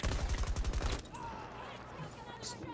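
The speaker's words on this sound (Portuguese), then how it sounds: "Nossa, dois tiros de escopeta." Two quick shotgun blasts in the first-person shooter Battlefield 2042, loud rapid reports at the start followed by fainter game ambience and distant effects.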